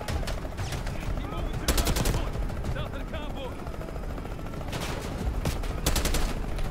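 A suppressed AK rifle in the Black Ops 6 campaign fires rapid bursts, one short volley and then a longer string, over dense game background noise.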